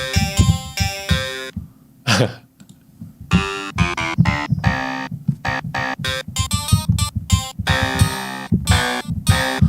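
A sampled dungeon synth instrument loaded into Reaper's ReaSamplOmatic5000 plays a series of short, loud tonal notes in rhythmic bursts with brief gaps, rich in overtones and close and dry, with no voices over it.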